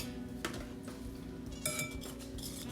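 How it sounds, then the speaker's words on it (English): Whisk clinking against a bowl as vanilla instant pudding is mixed, a few light metallic taps and scrapes over a low hum. "you need to whisk it"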